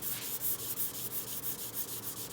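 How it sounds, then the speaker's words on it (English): Sandpaper rubbed back and forth across a towel laid over a primed speaker cabinet, a steady rhythmic scratchy swishing with regular strokes, close and fairly loud, no talking. "it also serves as cleaning the sandpaper off"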